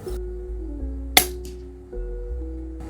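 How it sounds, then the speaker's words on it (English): A single sharp crack from a rimfire rifle firing match rimfire ammunition, set against a steady low hum, with a brief faint rustle just after the shot. "I'm gonna take my first shot here."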